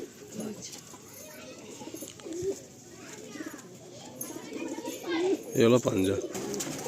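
Pigeons coo in a loft where adult birds are kept, low throaty calls rolling through the background and growing louder near the end, while someone talks over them.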